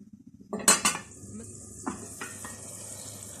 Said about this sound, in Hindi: अब इस मसाले को बहुत अच्छी तरह से भून लेते हैं।